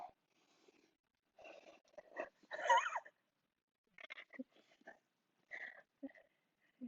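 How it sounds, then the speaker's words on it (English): A dog pants and whimpers softly during a yoga session at home, with short breathy puffs and faint whines in scattered bursts, close and quiet. "My dog Kira is just having fun right here, enjoying herself."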